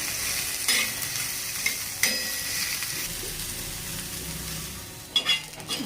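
Onion roasts in little oil on a griddle over a gas flame, giving a continuous crackling sizzle broken by several sharp scrapes and knocks of a spatula stirring it, with no voices.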